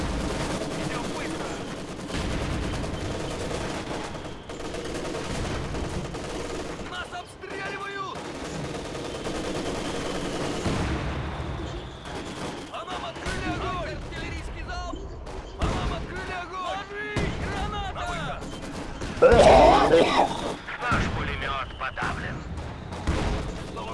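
Mortar and gunfire in the video game Company of Heroes 2 crackle in rapid, irregular bursts with occasional heavier booms, while players talk over the battle.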